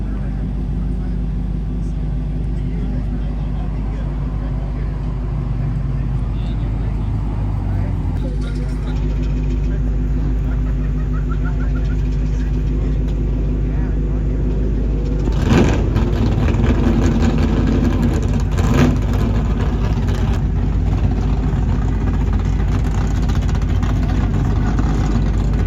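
At a drag strip, a car engine idles steadily with a low rumble, and a revving race car swells in partway through, while people talk nearby.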